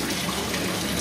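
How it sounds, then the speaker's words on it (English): Aquaponics home kit grow bed with a standard siphon flushing: a steady rushing gush of draining water, continuous and close, with no voices. "the siphon is flushing currently"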